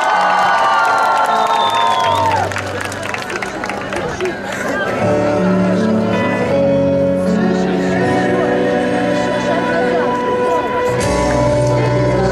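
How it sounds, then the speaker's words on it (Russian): A school graduation crowd in Novorossiysk cheers and shouts with children's voices as a graduate is welcomed, loud and sustained throughout, with music and chatter mixed in beneath the noise. "Встречаем громкими аплодисментами выпускница 11 В класса Любавская Наталья."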